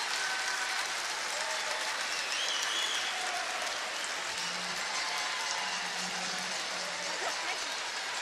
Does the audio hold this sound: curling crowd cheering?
yes